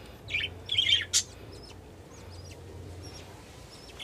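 Budgerigar chicks in a clay pot nest give a few short, high chirps close by, clustered near the start, then a quieter stretch with faint distant calls over low background hum.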